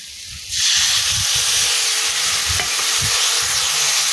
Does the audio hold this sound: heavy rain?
no